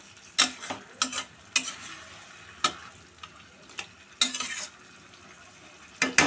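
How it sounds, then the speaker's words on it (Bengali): Goat mutton being stir-fried in a pan for a thin curry, a low sizzle broken by sharp, intermittent spatula scrapes and clanks against the pan, close and with no talking. "এবার এটা ঢাকা দিয়ে দিয়ে কষাতে হবে, ঢাকা দিয়ে দিয়ে কষাবো।"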